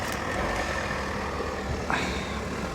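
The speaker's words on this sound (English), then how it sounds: "Sorry about the car noise in the background." A steady low rumble of a car engine runs throughout in the background, fairly even and moderately loud with no talking.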